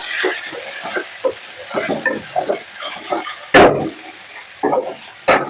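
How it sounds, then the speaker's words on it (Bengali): Vegetables for a vegetable sandwich filling are stirred in a pan, giving a string of short scraping and clattering strokes with two louder knocks against the pan. "এবারে আমি সবজিটাকে সবজিটাকে একটু ভালো করে নাড়াই"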